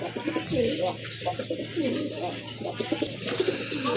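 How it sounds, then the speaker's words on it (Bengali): A pair of Rajgolla pigeons coo close by in repeated soft, throaty calls over a steady high-pitched whine. "খুবই সুন্দর এক জোড়া রাজগোল্লা কবুতর"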